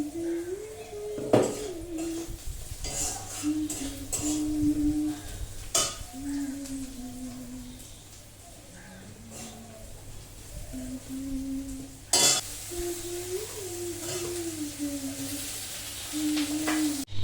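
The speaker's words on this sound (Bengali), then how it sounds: "এবার রসুনটা দিয়ে দিই" Garlic added to frying onions in a pan, a steady soft sizzle under intermittent spatula scrapes and clinks against the metal, with a continuous low hum running beneath, close and moderately loud, no talk.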